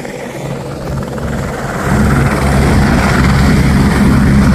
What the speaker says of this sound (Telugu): మళ్ళీ హెలికాప్టర్ ఎగురుతుంది,